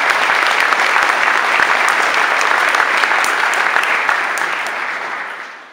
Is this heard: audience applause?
yes